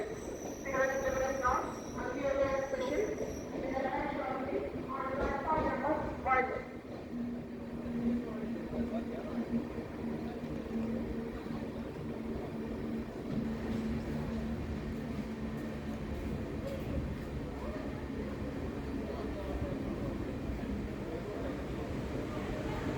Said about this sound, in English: It's 10:10 p.m. and we are pulling into Thrissur station